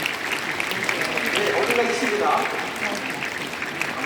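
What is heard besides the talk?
audience applause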